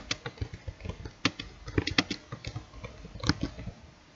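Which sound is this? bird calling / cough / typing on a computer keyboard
typing on a computer keyboard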